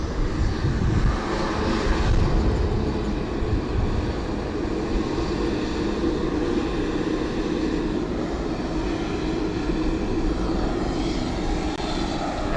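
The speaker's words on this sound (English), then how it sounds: "And Flamenco Cargo hitting the runway." A Flamenco Cargo plane touches down on the runway at San Juan's Luis Muñoz Marín International Airport, its engines giving a loud, continuous broadband roar with low rumble that holds steady throughout.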